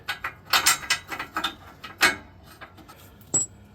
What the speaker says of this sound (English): back this bolt down, probably by hand